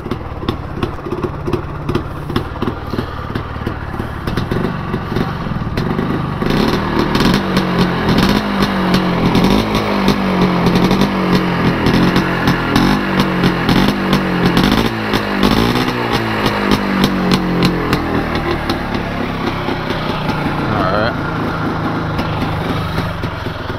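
A Polaris Scrambler 400 ATV engine warming up and settling into idle, its rapid putter wavering up and down in pitch through the middle before steadying, close and loud throughout with no talk.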